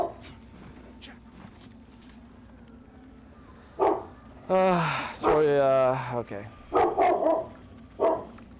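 A dog barks in a burst of loud, close woofs and yips, with someone talking over and between the barks in a room.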